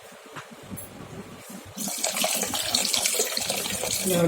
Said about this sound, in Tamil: தேவையான அளவு தண்ணி சேர்த்துடலாம்